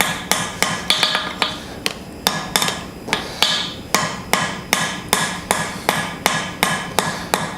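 Steady gentle hammer taps on a rivet in hand-forged blacksmith tongs, about two sharp metallic strikes per second, close and clear with a faint background hum, no talking.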